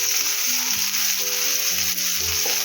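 Pieces of Bombil (Bombay duck) fish fry on a large tawa, a constant loud close sizzle with a few faint tones in the background.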